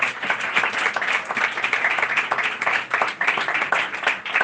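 A church congregation claps loudly and steadily in a dense, sustained burst of applause, many hands together close by, with no talk over it.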